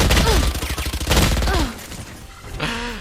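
In Valorant, a Stinger submachine gun fires rapid bursts, a dense crackling rattle of shots close up, mixed with quick electronic in-game effects, a brief pause and then another short burst.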